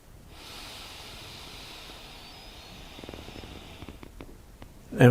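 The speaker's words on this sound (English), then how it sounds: "Now you breathe in from both nostrils," A slow, deep breath drawn in through both nostrils during a purification breathing practice, a soft sustained airy inhale lasting several seconds, close and quiet, ending with a brief louder rustle.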